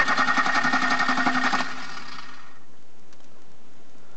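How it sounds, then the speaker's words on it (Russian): A car's starter motor cranks the engine with a steady, rapid churning for about a second and a half, then cuts off abruptly, leaving near silence. "и включаем стартер"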